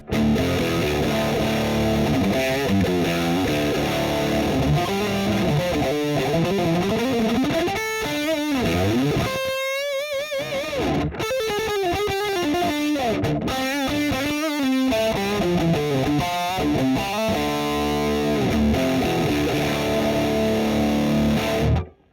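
Heavily distorted electric guitar through an MXR FOD Drive overdrive pedal at high gain plays metal riffs, chugging low notes mixed with higher melodic runs, loud and continuous with no voices.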